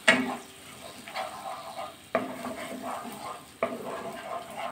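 A thick yogurt paste is stirred into a pan over very low gas for a jackfruit curry, with soft scraping strokes and gentle sizzling and three sharper spoon-against-pan knocks at steady intervals.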